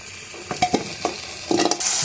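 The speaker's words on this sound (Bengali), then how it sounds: "চিকেনগুলো ঠিক এভাবে কড়া করে ভেজে নিতে হবে।" Chicken frying crisp in a pan: a short, moderate sizzle with a few stirring scrapes and clinks, the sizzle swelling toward the end with no voices.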